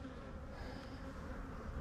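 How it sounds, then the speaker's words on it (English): Honey bees swarm over a honey-filled frame lifted from the top box of a hive, giving a soft, continuous buzz that holds steady throughout with no voices. "just honey and bees"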